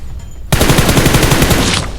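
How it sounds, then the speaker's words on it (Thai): A loud automatic weapon in PUBG Mobile rips off a rapid, continuous burst of shots after a brief quiet start, filling most of the moment before trailing off. "ยิงฟรีเลยครับ"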